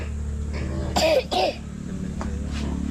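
Two quick, harsh coughs close together, loud and close, with a low steady background hum and no talking.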